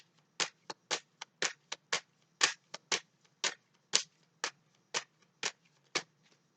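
Tarot cards being shuffled and drawn by hand, a steady series of about sixteen crisp, close riffling snaps spaced under half a second apart against a quiet background.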